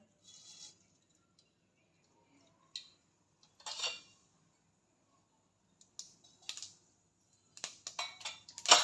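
Mustard seeds crackle in hot oil, sharp pops arriving in scattered bursts that grow busier toward the end, fairly quiet with no talking.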